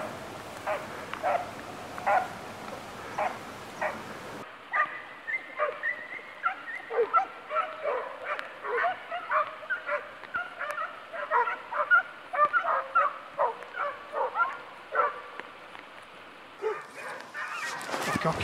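Hunting dogs on a hare hunt bark and yip repeatedly in an irregular, lively series, fairly close and loud outdoors, with occasional whimpers and brief voices mixed in.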